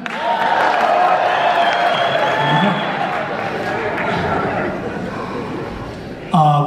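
Audience applause at a concert in the Saban Theatre, Beverly Hills: steady, dense clapping mixed with crowd noise and voices, sustained throughout and swelling slightly at the very end.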